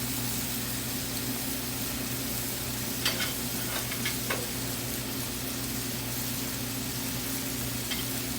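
Mushrooms stir-frying in a hot pan for a Thai ginger pork dish: a steady, even sizzle with a few sharp scraping clicks of a utensil against the pan, no talking.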